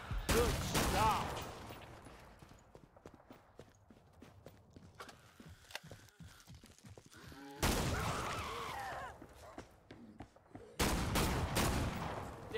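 Gunfire rings out in Killing Floor 2 on The Asylum map: a loud volley of shots, then scattered footsteps and clatter, another sustained burst of rapid fire, and a final loud flurry of shots.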